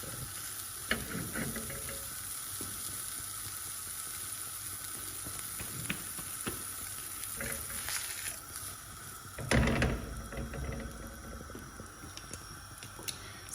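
Butter sizzling on hot Kashmiri naan in a pan, a steady faint frying hiss with a few soft clicks and a brief louder scrape partway through.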